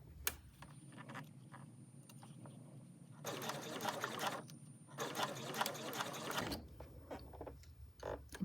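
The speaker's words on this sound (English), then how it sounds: "Sewing all the way up the top as close as I can get" A sewing machine stitches a zipper closure on a boxy top in two bursts of rapid, close whirring stitching, separated by a short pause, with faint background noise between runs.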